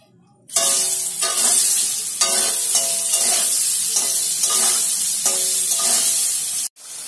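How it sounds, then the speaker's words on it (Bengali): Mushrooms drop into hot oil with a sudden loud sizzle after quiet, then keep frying with a bright, steady crackle and repeated stirring scrapes, close by, until the hiss cuts off at the end. "এর মধ্যে মাশরুমটা দিয়ে দিলাম এই তেলে।"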